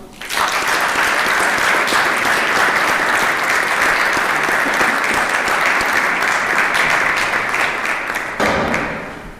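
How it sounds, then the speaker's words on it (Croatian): Sustained, dense applause from a church audience welcoming a speaker on the wedding rite, loud and steady for about eight seconds before tapering off. "Pozdravite ga jednim velikim pljeskom."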